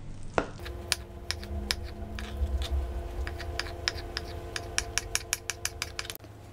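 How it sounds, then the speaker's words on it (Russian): A knife dices potatoes into small cubes on a cutting board, giving a series of sharp, close taps that start sparse and speed into a quicker chopping rhythm over a faint low hum. "Режем точно такими же небольшими кубиками."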